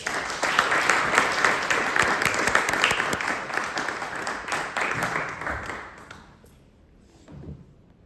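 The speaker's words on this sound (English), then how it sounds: "Let's give her a welcome round of applause." Warm applause from a lecture audience welcoming a speaker, full and close for about six seconds before tapering off into near quiet, with a brief soft rustle at the end.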